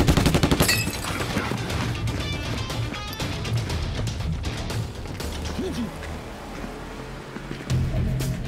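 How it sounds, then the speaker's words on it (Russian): Gunshots ring out during a shootout in a crime drama, a burst of sharp, close reports at the start followed by dense, chaotic bangs and clatter, with voices shouting over the noise. "Башка, стреляю!"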